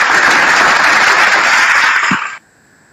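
Audience applause, a dense, loud wash of clapping that holds steady for about two seconds, then tapers and cuts off sharply, leaving near silence.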